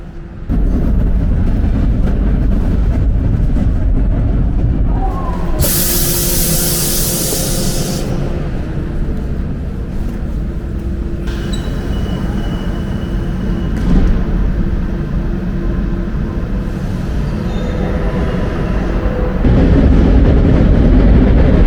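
Lisbon metro train riding the red line, heard from inside the car as a loud continuous rumble with a brief burst of hissing air near the start and shifting mechanical tones as it runs.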